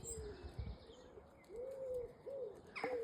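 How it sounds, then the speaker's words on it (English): A pigeon coos in a garden several times, soft rising-and-falling calls in short phrases, fairly faint against light background noise and faint chirps. "Another plump pigeon."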